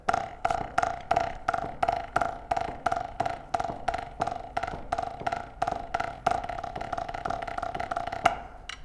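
A steady run of evenly spaced drum hits, quarter-note triplets in 12/8, about three per second, each a sharp attack with a short ringing tone, played alone with no talking.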